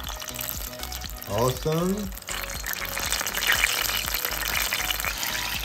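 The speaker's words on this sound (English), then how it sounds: "Deep fry couple minutes." Harumaki spring rolls deep fry in oil at about 170 degrees, with a continuous bubbling, crackling sizzle. A voice speaks briefly over it near the start.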